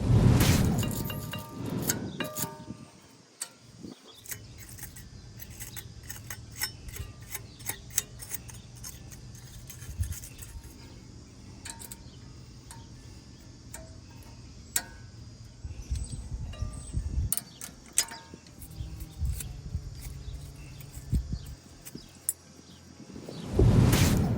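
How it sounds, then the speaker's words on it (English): A wire brush scrubs corroded brake parts clean, giving a steady run of close, scratchy ticking strokes over about twenty seconds, with sharper clinks between passes and no talking. "We're going to clean it off with a wire brush"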